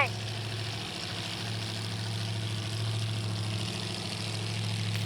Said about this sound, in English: Joe Beach of Aurora, Illinois, in the 56 Chevy with a blower